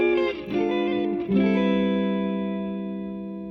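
A neo-soul electric guitar chord lick with hammer-ons and double slide pulls, processed through effects, sliding through two quick bends before settling into a ringing chord that decays slowly, played alone.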